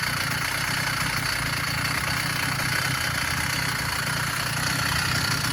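A small two-stroke engine idles steadily after a choked start, a close, constant buzzing chug with even vibration and no talk throughout.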